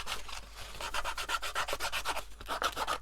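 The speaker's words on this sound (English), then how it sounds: "the crazy thing of just sanding down all my hard work, just to batter it a bit more." Rhythmic back-and-forth sanding strokes on a handmade vintage ink box, close and fairly quiet, repeating at a brisk even pace with no talking.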